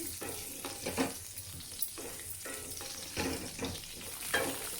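Bitter gourd pieces frying in oil give a soft, crackling sizzle broken by rhythmic scraping and stirring strokes from a utensil, quiet and close, with no talk over it.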